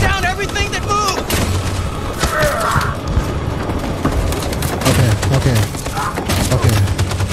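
Machine gun fire and heavy battle noise from the video game Detroit: Become Human, loud and dense with sharp repeated bursts and booms throughout, under overlapping shouting voices and music.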